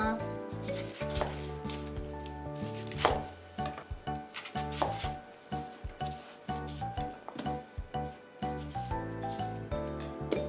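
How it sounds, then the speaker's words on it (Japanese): A knife chops an onion on a board while a dry curry is being made, giving a brisk, uneven run of close wooden taps over steady background music. "で、最後玉ねぎを切ります。"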